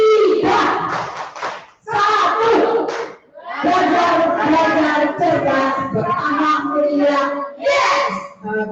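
A group plays the tepuk tugas clapping game, voices chanting together in bursts with rhythmic clapping, loud and close in a few repeated phrases.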